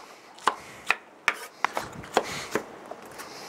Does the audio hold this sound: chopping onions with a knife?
yes